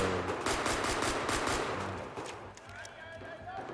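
Rapid bursts of automatic gunfire from an online shooter game crackle continuously, dense and loud, with a few scattered single shots toward the end.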